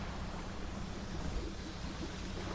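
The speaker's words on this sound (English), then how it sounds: "I'm hearing bubbles." Steady underwater bubbling and wash in the fishing game Dredge, a continuous low rushing churn with no clear breaks, moderately quiet and alone.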